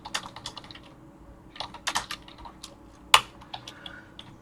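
Keys clatter on a computer keyboard while entering data into Google Sheets, irregular bursts of close, crisp clicks with short pauses between runs and one sharper keystroke.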